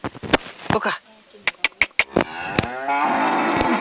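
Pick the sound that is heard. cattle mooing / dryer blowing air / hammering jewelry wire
cattle mooing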